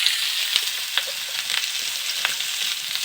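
Banana and papaya pieces fry in a pan for a curry, with a steady, close sizzle and a few faint stirring clicks, no voices.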